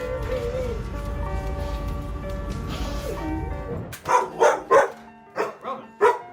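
A small dog, reunited with its family after six years missing, barks in a rapid series of about six sharp, close barks after a stretch of background music and voices.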